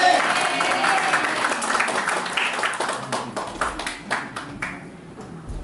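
Audience at a motivational leadership training session breaks into loud applause, a dense wash of clapping that thins into scattered sharper claps toward the end.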